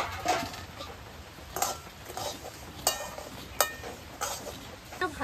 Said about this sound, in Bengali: ভাজার সময় কিন্তু একভাবে এইভাবে খুন্তিতে নাড়তে হবে, নাহলে কিন্তু পুড়ে যেতে পারে।